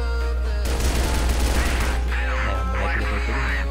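Rapid automatic gunfire rattles in a CrossFire online shooter match on a castle map, a dense loud burst lasting over a second, followed by softer game sounds.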